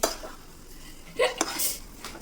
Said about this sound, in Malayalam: നമ്മൾ തന്നെ മുട്ടയെല്ലാം ഇതിലേക്ക് എടുത്ത് തട്ടിയിട്ടുണ്ട്. ഇനി നമുക്ക് നല്ലപോലെ മിക്സ് ചെയ്യാം.